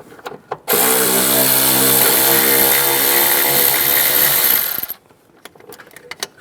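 A 10mm socket on a powered driver spins out bolts from the heater box of a 2007-2013 Chevy Silverado: one loud, close, steady whirring run of about four seconds, with light clicks and handling before and after.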